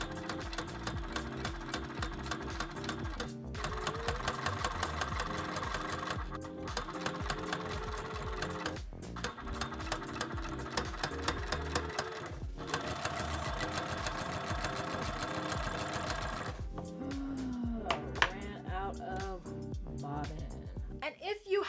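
Sewing machine top stitching fabric for a harness, a continuous rapid mechanical hum with brief pauses between runs, heard under background music with a voice present.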